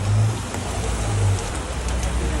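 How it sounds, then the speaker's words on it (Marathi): Heavy rain in Pune pours down as a dense, steady wash of noise with a low rumbling undertone, continuous and close throughout, with no clear speech. "आता जास्त मोठा पाऊस आलाय"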